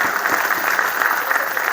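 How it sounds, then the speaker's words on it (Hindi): A teacher's day comic poetry gathering audience bursts into continuous, dense applause for the poet Noor, a loud steady wash of many hands clapping for the whole short stretch without speech. "एक बार तालियां बजाएं जरा नूर को"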